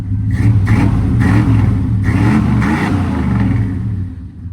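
A square body Chevy truck engine with mods revs loudly and close, several rising blips of throttle over a deep, steady rumble, with no talking.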